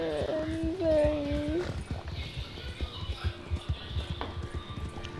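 Horse in Red Dead Redemption 2 whinnies briefly near the start, then hooves clop in an uneven rhythm under game ambience, with a voice talking over the opening moments.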